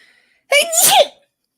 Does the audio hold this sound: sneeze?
yes